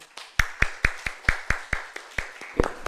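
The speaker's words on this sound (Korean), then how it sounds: "큰 박수로 모셔보겠습니다" At a medical lecture at Seoul National University Hospital, the audience claps to welcome a speaker, heard as a regular series of distinct, close claps in a quick, even rhythm of about four per second.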